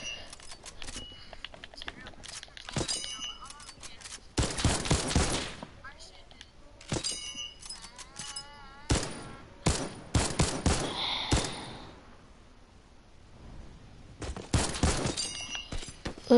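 Rapid bursts of video game gunfire from a newly acquired gun, loud cracking shots in clusters with short pauses between volleys, while a player talks excitedly over the action.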